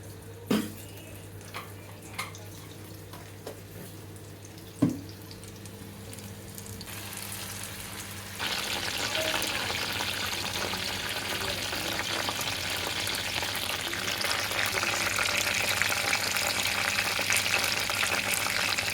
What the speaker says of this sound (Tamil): இப்போ எண்ணெய் சூடாயிடுச்சு, போட்டுடலாம்.